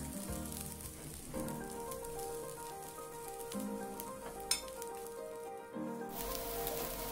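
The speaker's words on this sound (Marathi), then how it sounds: "दुसऱ्या बाजूने देखील आपण वडे क्रिस्पी होईपर्यंत भाजून घेणार आहे" Fasting vadas roasting in an appe pan with little oil, a soft, quiet sizzle and gentle crackle running steadily, with a faint click midway and a background hum.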